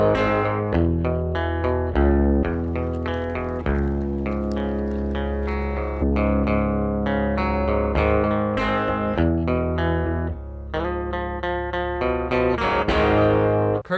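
A distorted Ernie Ball electric guitar plays through a Quad Reverb cab, with gritty sustained chords and picked notes that ring out continuously and loudly and carry reverb and echo.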